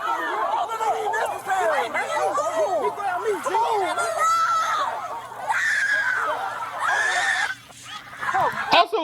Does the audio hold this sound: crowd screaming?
yes